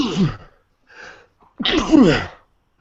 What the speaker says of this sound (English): I didn't know skeletons could sneeze.